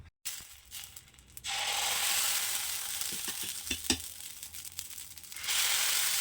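Onion, tomato and green chilli dosa batter sizzling loudly on a hot dosa tawa, a steady hiss that swells after a brief quiet start, with a few soft clicks of a utensil scattered through it.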